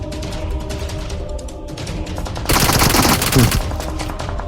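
Rapid bursts of PUBG Mobile gunfire, loud and dense, with a sharper, heavier volley in the middle over a constant background of game noise.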